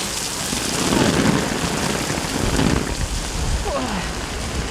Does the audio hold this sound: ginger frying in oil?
no